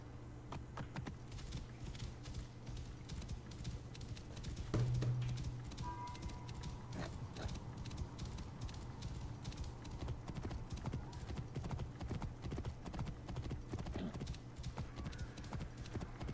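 Steady clip-clop of horse hooves trotting in Assassin's Creed: Origins, continuous rhythmic footfalls over a low ambient hum, with a brief soft whinny partway through.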